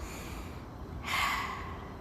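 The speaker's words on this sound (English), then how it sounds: "Breathe with me now." One deep, audible breath drawn in during a guided breathing exercise, a soft rushing inhale over a quiet low hum.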